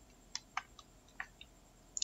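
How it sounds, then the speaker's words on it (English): Keys on a computer keyboard click in a few sparse, quick taps, fairly faint and close, with irregular spacing and a brief double tap at the end. "you see that I'm even typing in, and the words are coming up"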